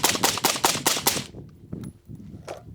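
Global Ordnance Monolith rifle firing a rapid string of about six sharp, loud shots in quick succession, followed by quiet handling noises.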